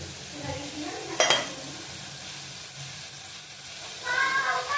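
Bitter gourd with chili powder and kokum is stirred in a pan under a soft sizzle, a sharp metallic clink of the spoon against the pan early on, and scraping that returns toward the end.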